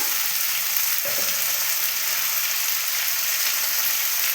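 Broken wheat dalia khichuri cooks with cumin and chili powder in a pot, a steady broadband frying hiss running throughout with one brief scrape of the spoon being stirred through it.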